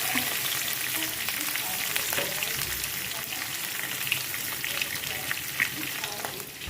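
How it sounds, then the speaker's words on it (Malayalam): Curry leaves frying in hot oil for a pickle, giving a dense, continuous crackling sizzle up close with faint background hum and no voices. "കറിവേപ്പിലയൊക്കെ നല്ലതായിട്ട് മൂത്ത് വരുമ്പോഴത്തേക്ക്"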